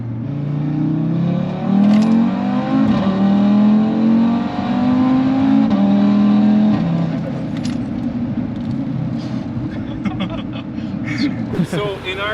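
A 550HP Audi RS3 at the Nürburgring revs hard and close, its engine note climbing in rising sweeps before settling to a rougher burble, with a voice speaking over it.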